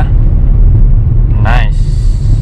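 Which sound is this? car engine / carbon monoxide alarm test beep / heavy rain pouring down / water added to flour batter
car engine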